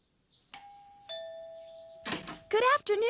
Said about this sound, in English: Now that's quite an interesting doorbell.